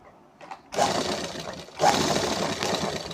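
A sewing machine stitches fabric piping around a garment neckline: two loud, close bursts of rapid mechanical stitching, separated by a short pause, with no voices.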